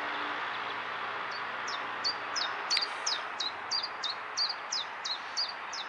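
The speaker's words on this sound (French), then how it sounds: "Essayez de trouver des endroits comme ça où vous pouvez entendre les petits oiseaux" Small birds chirp outdoors in a repeated series of short, high tweets at a steady pace over a soft, constant ambient hiss.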